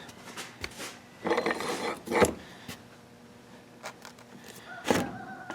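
A coin ring tool presses a steel starter cone down onto a nickel, giving a few short metallic scrapes and creaks in close, quiet bursts with pauses between them.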